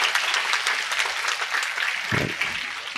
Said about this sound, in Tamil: நல்லாத்தான் கைதட்டுறோம்.